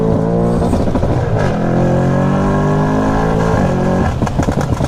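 An Audi RS6 C8 with 800 hp gives a loud, deep engine roar held at high revs, dipping and rising again in pitch across several revving pulls, heard up close.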